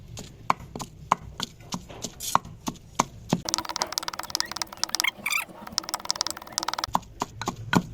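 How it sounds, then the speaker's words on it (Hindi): Raw chicken chopped in a bowl with a wooden stick: sharp, regular thuds in a steady rhythm, a burst of rapid clattering blows in the middle, then the even strikes resume, close and alone. "तो अब डंडे की मदद से इसको अच्छी तरह से चॉप कर लेते हैं"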